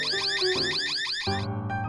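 A carbon monoxide alarm sounds with rapid, warbling electronic tones that repeat in quick sweeping cycles, loud and close, with no talking over it.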